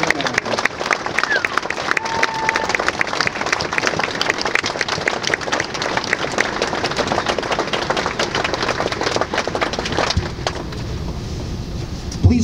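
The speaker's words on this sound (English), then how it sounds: "Please join us in another round of applause for the outstanding." A crowd claps at a barracks dedication ceremony at West Point, a sustained, loud wash of many hands that holds evenly for several seconds before tapering off near the end.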